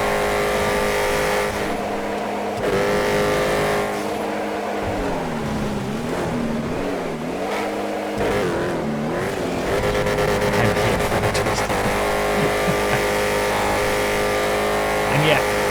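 Race car engines rev and drone steadily through a random-class race in GTA FiveM on Blaine County roads, pitch rising and falling through shifts and corners, with a voice talking over the continuous engine noise.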